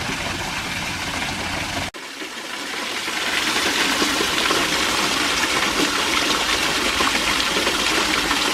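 A waterfall at Beaman State Natural Area, Tennessee, a loud broadband rushing roar that fills the clip without letup after a momentary break near the start, with no talking.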